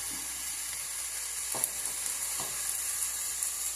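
Onions fry in a pan with a pinch of turmeric, giving a steady, even hiss of hot oil, with two brief stirring knocks partway through.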